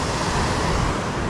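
Sea waves washing onto a sandy Mediterranean beach near the mouth of the Kotsi River, a steady broadband surf wash with wind, continuous and fairly loud throughout with no voices.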